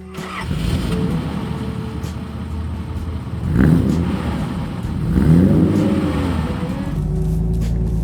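A classic car engine starts and revs, rising twice in strong throaty surges before settling into a steady, deep idle rumble nearby.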